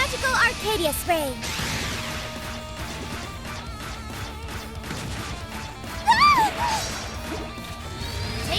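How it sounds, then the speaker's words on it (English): The Magical Arcadia Spray special attack in Trails into Reverie, a flurry of crashing hits, whooshes and sparkling magical chimes layered with music and voiced battle shouts. "Magical Arcadia Spray!"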